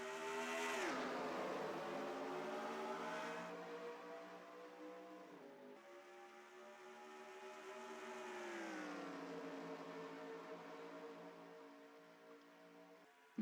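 Race cars lapping the Hattiesburg 500 in the NROL racing video game: a steady, fairly quiet engine drone whose pitch rises and falls as cars accelerate and lift, with several engines layered together.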